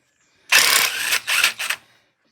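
A ratchet works the center bolt out of a UTV primary drive clutch on a Huskie Haul Master, sounding as three close, loud mechanical bursts: one long stretch followed by two shorter ones.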